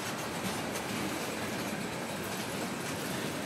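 A CSX mixed freight train passes at a crossing in Holland, Michigan, giving a steady, dense roar of wheels and rolling cars that holds close and loud for the whole stretch.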